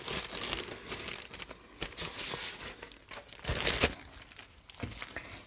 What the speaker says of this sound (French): j'attrape mon morceau de papier